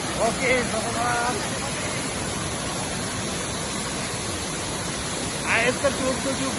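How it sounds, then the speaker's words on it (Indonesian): Tujuh Bidadari waterfall in North Aceh, a constant broad rush of falling water, with people's voices and shouts heard faintly over it. "Air terjun 7 Bidadari."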